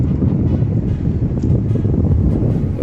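A steady breeze rushes by a stream on a sunny fishing day, buffeting the microphone with a constant low roar and no pauses.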